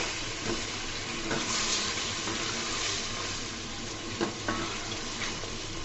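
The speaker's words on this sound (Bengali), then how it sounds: "আলুগুলা দিয়ে 1-2 মিনিট নাড়াচাড়া করতে হবে।" Potatoes being stirred and fried in a pan give a steady close sizzle with a few brief scraping knocks of the spoon.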